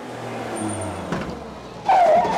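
A vehicle rumbles at low idle, then pulls up and stops with a short hiss and a brighter engine surge near the end, close by and moderately loud in a village street in a Tamil film scene.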